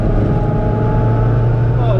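Supercharged 998cc Mini engine pulling hard with a steady, loud in-cabin drone and a low-pitched rumble, a rising whine creeping in near the end, while excited voices talk over it.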